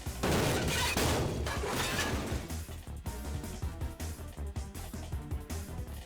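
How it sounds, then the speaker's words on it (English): Gunshots in the game Killer Queen: a loud dense burst at the start is followed by a string of sharp, evenly spaced cracks and thuds under a music bed. "Another gunshot rang out."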